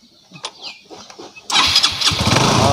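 A motorcycle engine cranks and catches, bursting into a loud, steady running roar after a second and a half of quieter handling sounds and faint voices.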